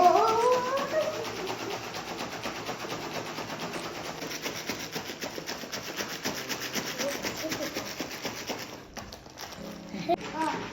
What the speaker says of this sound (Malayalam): ഇങ്ങനെ വെച്ചിട്ട് ഒരു 5 മിനിറ്റ്സ് ഷേക്ക് ചെയ്യാൻ പോകാം.